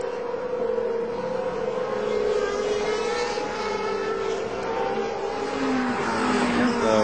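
GP2 race cars at Monza scream past near the Parabolica, high engine whines rising and falling as several cars pass in sequence, moderately distant and continuous.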